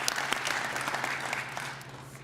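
Brief burst of audience applause for speakers at a donor-scholar breakfast, dense clapping from a room full of people that tapers off after a couple of seconds.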